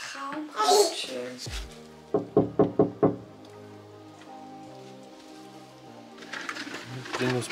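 Five quick, loud knocks on a door in an even rhythm, set between hushed voices, with someone speaking and soft patter in the background before and after.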